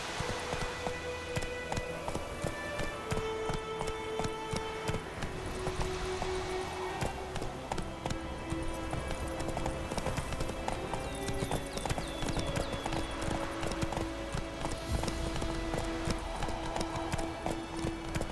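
A horse gallops in The Witcher 3 with rapid, rhythmic clip-clop hoofbeats close up, carried over ambient music with no talking.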